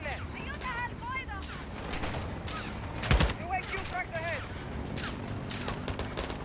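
Distant battlefield gunfire in Call of Duty: Modern Warfare 2, with scattered shots and one sharp loud report near the middle, under voices and shouting.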